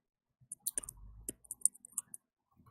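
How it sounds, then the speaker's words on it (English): Irregular keyboard typing taps in quick bursts and scattered single clicks, fairly faint and close, heard over a quiet background during a pool match broadcast, with no talking. "Are you typing? Is that what I'm hearing?"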